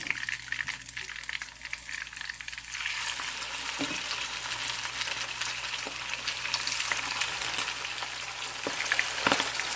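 Fat heating in a pan for curried liver gives a steady, moderately close sizzling hiss that swells after a few seconds, with faint scattered clicks and no talking.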